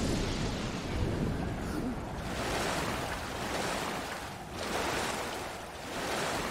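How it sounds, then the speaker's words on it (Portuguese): Stormy ocean surf in the survival game Stranded Deep, a steady loud roar of crashing waves and wind at sea with gentle swells in intensity, no voices over it. "Vamos bem louco no meio da tempestade pro mar."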